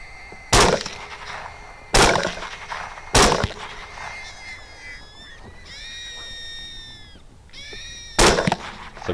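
Follow-up rifle shots fired at a wounded hog during a night thermal hunt: four sharp, loud cracks spaced over several seconds, with thin high whines and squeals in between and no talk.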